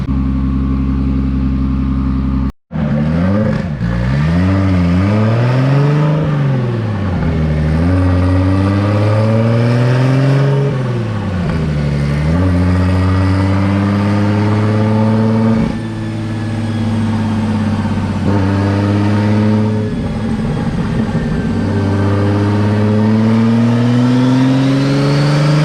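A Nissan 240SX S13 with an RB25 engine revs hard on a dyno pull, its loud engine note sweeping up and down through repeated climbs and drops, close and sustained with a brief cut near the start.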